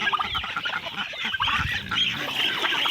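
Ducks and chickens being fed in the morning at a rural home keep up a busy stream of honking quacks and clucks, several birds calling over one another nearby.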